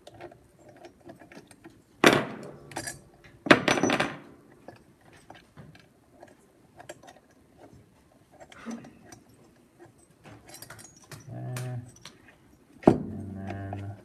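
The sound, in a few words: backing out cylinder head bolts with wrench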